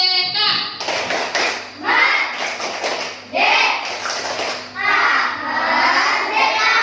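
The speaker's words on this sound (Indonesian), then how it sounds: "Oke, tepuk tangan sekali lagi." A classroom of children clapping: several bursts of lively group applause mixed with excited shouting and cheering, close and loud, separated by brief lulls.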